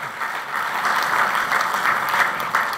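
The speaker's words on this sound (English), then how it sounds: "That deserves a round of applause." A speech audience breaks into steady applause, loud and continuous throughout, with no voices heard over the clapping.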